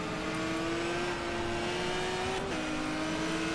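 Race car engine in the racing video game GTR 2, a high sustained whine that drops in pitch as a gear is shifted near a corner, loud and steady with no speech.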